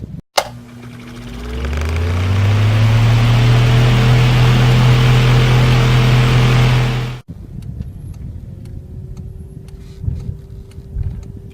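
A car on a driving lesson road, heard from inside as the engine runs loudly and steadily with broad road noise for about seven seconds, then cuts to a quieter cabin with faint knocks and a low hum.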